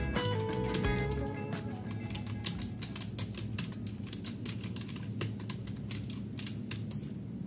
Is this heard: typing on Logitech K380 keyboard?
yes